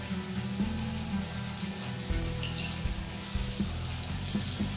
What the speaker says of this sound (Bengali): তো আমি এর মধ্যে একটু সামান্য পরিমাণ জল অ্যাড করে দিচ্ছি